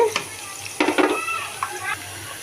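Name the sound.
onion and garlic frying in oil in a wok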